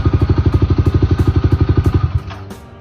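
A Kawasaki KLX250 motorcycle engine with an EBC clutch kit thumps at a rapid, even idle up close, then shuts off, the pulses sputtering out into quiet.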